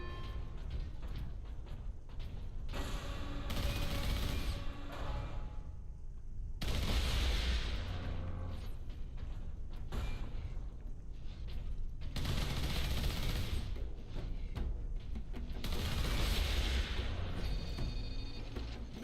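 Gun turrets in the Warhammer 40k Space Marine video game keep up dense, rapid fire in long loud bursts, a continuous roar of shots and mechanical clatter with brief lulls between volleys.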